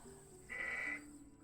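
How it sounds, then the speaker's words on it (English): A single sheep bleat from the video game Teddy's Haven, one short, clear, tonal cry heard alone over a quiet game background hum. "You walk up to these sheep, right? Watch what happens."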